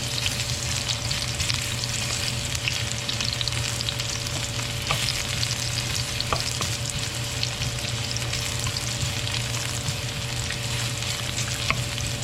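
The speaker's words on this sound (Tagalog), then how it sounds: "Kapag mainit na po siya, lalagyan lamang po natin ng konting mantika. Pagkatapos po, lagay na po natin yung ating sibuyas." Onions sauté in hot cooking oil for a Filipino goat kaldereta, a continuous close sizzle and crackle with occasional stirring scrapes and no voices.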